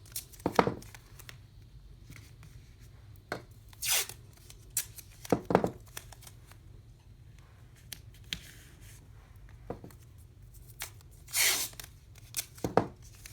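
Tape torn off a roll and pressed onto an in-the-hoop embroidery bag and stabilizer, heard as several short, sharp rips and crinkles spaced irregularly against quiet background hum.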